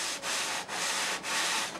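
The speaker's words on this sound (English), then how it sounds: "A little sanding block." A sanding block rubs back and forth over a workpiece in three long, even strokes, each a close, loud, rough scratching with short pauses between.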